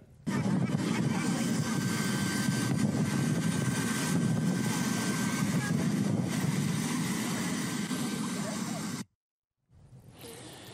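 An airplane heard in a played video, a steady, loud broadband engine roar and rumble that holds for about nine seconds, then cuts off abruptly before fainter noise resumes.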